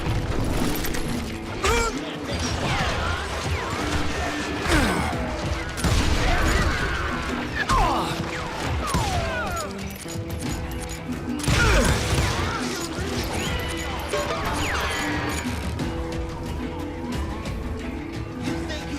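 Gunfire in the video game Call of Juarez, a gunfight with scattered shots, ricochets and mechanical clatter in bursts over a busy background, with voices heard at times.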